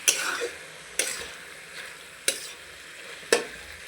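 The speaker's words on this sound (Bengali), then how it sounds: "এখন আস্তে আস্তে করে নেড়ে দেবো যেন এই জলটার সঙ্গে মিশে যায়" A spatula scrapes through spinach in a pan four times at regular intervals over a gentle, continuous sizzle of frying.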